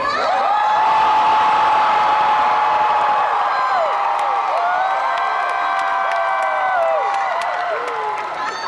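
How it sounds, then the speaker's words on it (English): A large crowd of anime convention panel attendees cheers and screams loudly together, a sustained roar with rising and falling whoops and shouts, some whistles near the end. "you guys cheer as loud as you can really quick"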